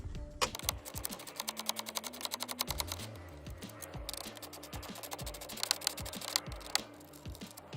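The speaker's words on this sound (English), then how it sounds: "go ahead and throw on a 10 millimeter socket and we'll get these unscrewed" A 10 mm socket on a ratchet or driver unscrewing the screen screws of a Toyota Tundra or Sequoia truck, giving a fast, steady run of close mechanical clicks and whirring that goes on throughout, with no talk.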